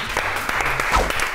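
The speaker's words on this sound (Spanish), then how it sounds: "Un aplauso" A short burst of crowd applause, steady clapping from many hands throughout.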